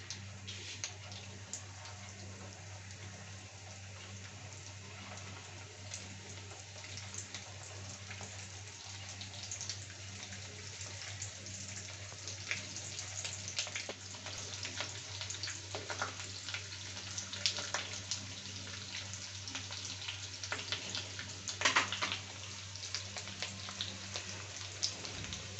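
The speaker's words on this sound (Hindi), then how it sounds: "अब मैं ये कबाब इसमें रखती जाऊँगी और इसे फ्राई कर लूँगी।" Chicken and chickpea kababs fry in oil over medium heat, giving a steady, soft crackle and patter of fine pops throughout, with no talking over it.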